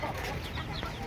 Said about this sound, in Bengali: এই যে আমাদের একটা মুরগি হাঁসের খাঁচার ভিতরে ঢুকে খাবার খাচ্ছে